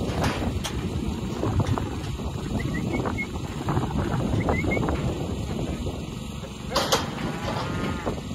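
Steady broadband wind rushing and buffeting throughout, with a running engine's low drone underneath and a few brief higher chirps; no one speaks.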